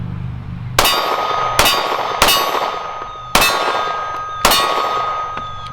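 Pistol rounds from a CZ P-10S striking a steel silhouette target at an outdoor range, five sharp metallic clangs with ringing decay, spaced unevenly over several seconds with no talking.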